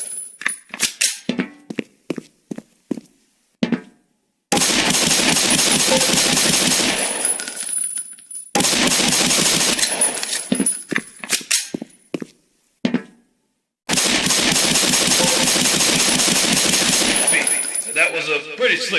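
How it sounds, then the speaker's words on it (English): Pistol fire on a target range during the Hazard Course in the video game Black Mesa: a quick series of sharp, close shots, then long, loud stretches of dense, continuous noise. "Put 7 rounds in the center ring of each target."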